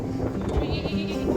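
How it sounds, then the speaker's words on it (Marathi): A pet goat with an upset stomach, out on a hill trail near Dehugaon, Pune, bleats close by in a short wavering cry, with a second bleat following at the end. "एक बकरी आणली"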